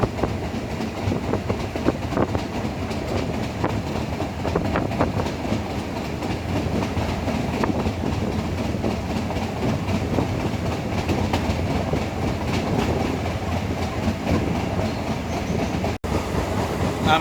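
Meter gauge passenger train running from Junagadh toward Sasan Gir, heard from inside the coach as a loud, continuous rumble with steady rattling and rhythmic wheel clatter on the rails throughout.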